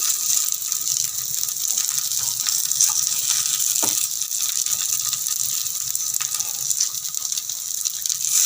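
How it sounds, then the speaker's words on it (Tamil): Kara kuzhi paniyaram batter frying in hot oil gives a steady, dense sizzling hiss that runs unbroken throughout. "இப்போ எண்ணெய் சூடு ஏறிடுச்சு. இப்போ குழி பணியாரம் ஊற்ற போகிறோம்."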